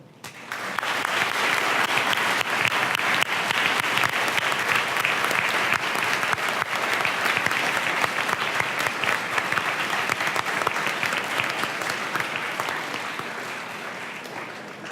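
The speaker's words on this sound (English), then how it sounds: "I want to invite everyone to join me in giving a round of applause to our hero" Sustained audience applause at a school sports prize presentation, a dense, steady wash of many hands clapping for Reverend Robertson that holds evenly for about fourteen seconds before tapering slightly at the end.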